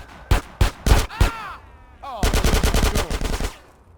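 Gunfire in the PC game Grand Theft Auto San Andreas: four single loud shots, then a short pause and a rapid burst of about a dozen automatic rounds, with a faint voice in the gap.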